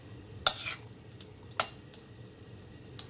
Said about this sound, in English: I am now going to coat the fish with the marinade.